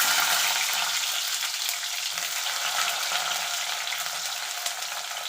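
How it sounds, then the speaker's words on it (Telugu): Small sambar onions fry in sesame oil, producing a dense, continuous hiss that holds steady and fairly loud throughout without pauses. "ఎర్రగడ్డలు వేసుకోవాలి సన్న ఎర్రగడ్డలు సాంబార్ ఎర్రగడ్డలు"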